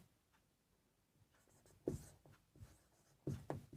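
Pen or pencil writing an answer into a box on paper during a maths solution, with short scratchy strokes in a few bursts, fairly close and quiet, with no talking over it.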